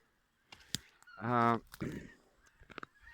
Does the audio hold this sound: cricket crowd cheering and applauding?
no